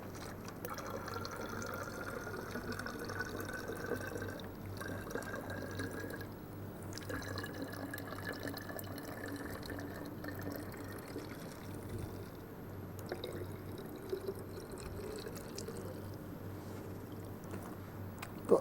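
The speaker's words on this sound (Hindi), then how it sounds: "ये छेद में से अलग अलग पानी की धार निकल रही है।" Water streams from several small holes in a container in a simple gravity experiment, a steady faint trickling and splashing that runs continuously at low level.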